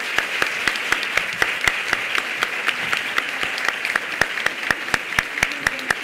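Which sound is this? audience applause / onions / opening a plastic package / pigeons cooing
audience applause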